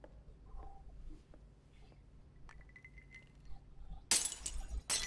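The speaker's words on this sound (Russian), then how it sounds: "у тебя столько сил стакан раздавить" Glass crushed by hand in Marvel's Spider-Man Remastered: a quiet stretch of faint tinkles and clinks, then a sudden loud, bright crunching shatter near the end that keeps crackling for about a second.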